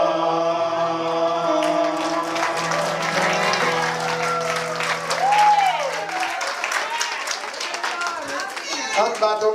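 Church congregation at a French-language praise service clapping and cheering over fading music, a sustained burst of applause with a voice calling out, swelling midway and continuing loud to the end.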